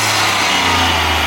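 A Ford Fiesta ST fitted with a new induction kit runs at a steady idle, a loud, close, continuous engine hum with a low throb and breathy intake noise, no voices over it.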